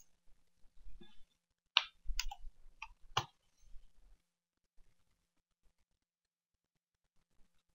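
A handful of crisp computer mouse clicks in PC cleaning software, bunched into a quick run in the middle and then followed by near silence with a couple of faint ticks.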